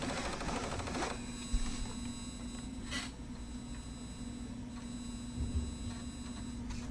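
An Apple IIe disk drive booting an AppleWorks disk: steady whirring hum with a faint tone, broken by a few sharp clicks and rattling head steps.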